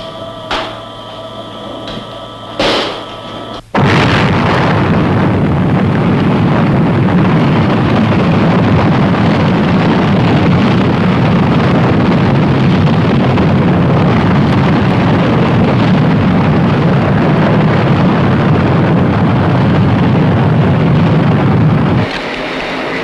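A missile launch at Vandenberg bursts in after a few seconds of quieter control-room ambience, becoming a sustained loud, broadband roar that holds steady for nearly twenty seconds before easing off at the end.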